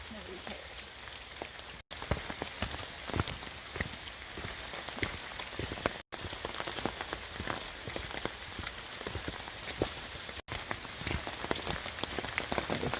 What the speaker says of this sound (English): I feel like the rain is picking up now